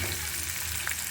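Chapa shutki dried fish and bean seeds fry in a pan, a brief dense close sizzle with a faint scrape near the end.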